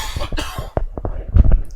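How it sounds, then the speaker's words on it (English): A man coughs harshly several times in a quick, close burst, then follows it with a few rougher, throatier coughs. "I apologize for that damn cough"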